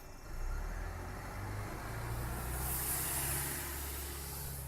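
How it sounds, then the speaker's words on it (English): Toronto TTC buses drive by on a city street, a low engine rumble rising and lingering with a brief hiss of air, fairly faint and with no talk. "TTC riders have been hearing the sounds of buses more often over the past few weeks"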